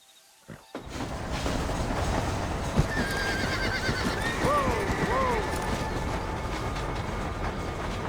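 A horse neighs twice and hooves clip-clop steadily in the Red Dead Redemption video game, with a rumbling train-like bed of noise underneath throughout.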